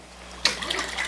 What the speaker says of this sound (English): the cold water won't wash away any of the butter, but it will get any little bits of buttermilk off.